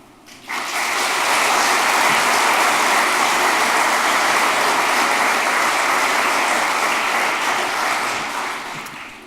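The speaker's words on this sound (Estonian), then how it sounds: "Ma paluks aplausi ka Eesti IT-kolledži õppeosakonnale, toetavale personalile ja kogu töökale kooliperele." At an IT college graduation ceremony, a hall audience breaks into loud sustained applause that starts abruptly, holds steady for several seconds and then tapers off slightly at the end.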